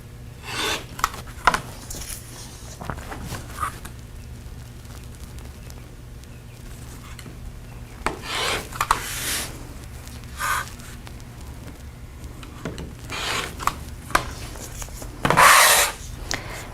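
Rotary cutter trimming a fat quarter of quilting fabric against a ruler: several short scraping cuts in separate bursts, close and fairly quiet, with a louder rasping stroke near the end and no talking.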